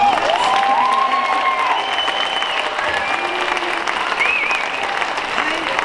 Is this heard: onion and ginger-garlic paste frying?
no